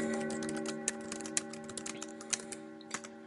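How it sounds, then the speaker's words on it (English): Keys tapped on a computer keyboard while typing a note title in the vim editor, a run of light, irregular clicks close by over a steady humming background. "I can just type in whatever the title is"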